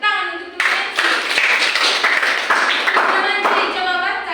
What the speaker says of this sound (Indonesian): tepuk tangan untuk teman Messi